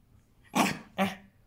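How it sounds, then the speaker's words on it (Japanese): A toy poodle gives two sharp, close barks with a rough, growly edge, about half a second apart, with no talk. "誰に吠えてんの"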